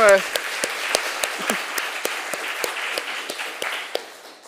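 Applause from an audience at a student competition in art history, a moderate round of claps spread through the room, fading steadily with a few sharper claps standing out.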